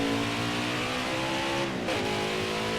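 A NASCAR race car engine in a video game screams at high revs on a qualifying lap of the Charlotte Roval, a loud continuous whine with a brief dip and rise in pitch as it shifts or brakes.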